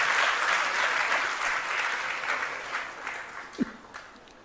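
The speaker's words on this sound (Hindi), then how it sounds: "तालियां बजा दी, पहले बार में क्यों नहीं बजाई?" An audience claps during a sermon by Acharya Vidya Sagar Ji Maharaj, a broad wash of applause that gradually fades, ending in a few scattered claps and a sharp knock.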